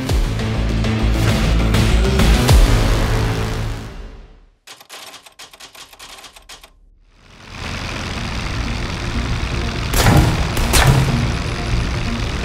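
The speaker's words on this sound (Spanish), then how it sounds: "también lo hacían los mecanismos de defensa con artillería antiaérea" Anti-aircraft artillery firing in a military aviation setting, with loud booming bursts and heavy rumble, a sudden quieter stretch of rapid crackling in the middle, then more sharp, loud blasts.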